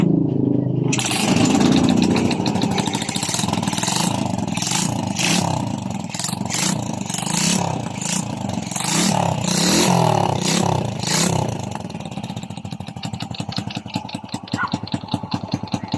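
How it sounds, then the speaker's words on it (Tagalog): A carburetor-type Honda Wave 100 motorcycle, hard to start and misfiring, is kickstarted and then runs loudly up close. The small engine clatters and buzzes with rough, uneven revving for most of the time, then settles toward a lighter idle. "So try natin i-kickstart ang kanyang motor."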